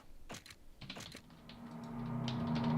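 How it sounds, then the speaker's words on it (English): A computer keyboard clicks out a few quick, close keystrokes, then falls quiet under a steady low hum that gradually swells. "I think I'm typing a little bit too fast"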